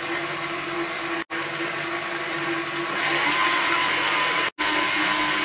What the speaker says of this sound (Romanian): Dumneavoastră puteți folosi telul sau mixerul de mână.